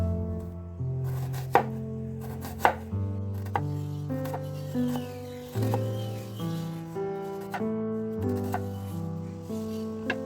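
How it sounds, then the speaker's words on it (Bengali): A knife slicing onions lengthwise for a fried onion garnish, crisp chopping taps landing in an uneven rhythm over steady background music. "দেখুন এইভাবে আমি পেঁয়াজগুলো কেটে নিয়েছি স্লাইস করে।"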